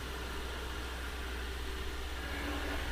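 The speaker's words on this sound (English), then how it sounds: "Got my computer running in the background. I have my air conditioner, central air running." Steady, quiet broadband hum of a room with a computer and central air conditioning running, a constant airy whir with a low drone.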